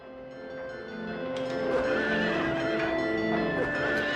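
A horse whinnies in Silent Hill 3, a long, loud, wavering neigh that swells and holds over a low steady drone in the background.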